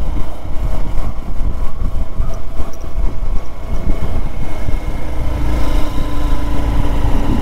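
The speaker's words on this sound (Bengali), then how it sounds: "বাইকের কি যেন একটা শব্দ হচ্ছে মনে হচ্ছে" A motorcycle engine labours loudly up a steep mountain road on a ride toward Darjeeling, a rough, uneven droning rumble with a strange added noise, close and continuous throughout.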